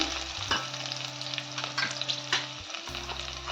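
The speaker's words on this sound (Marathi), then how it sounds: "कढीपत्ता आणि मिरची थोडीशी भाजून" Curry leaves and green chillies roast in a pan for a spicy crab curry, giving a close, steady sizzle with bursts of crackling and stirring scrapes over a low electric hum. No voices are heard.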